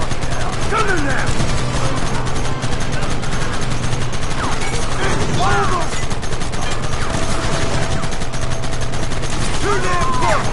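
Bursts of gunfire in Red Dead Redemption, with repeated shots and rapid volleys crackling steadily over loud game ambience, while shouting voices cut in at moments.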